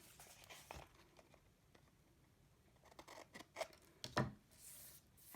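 Scissors snip through cardstock for a Christmas journal, a few quiet, close cuts scattered in a sparse rhythm with a brisker flurry of crisp snips near the end, faint and without talk.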